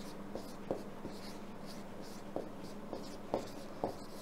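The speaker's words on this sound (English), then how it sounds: "So let me write it down." A pen writing on paper gives soft, close scratching strokes with a few sharper taps in an irregular rhythm, quiet and alone with no talk.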